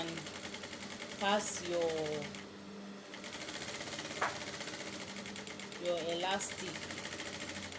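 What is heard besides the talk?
sewing machine stitching a hair bonnet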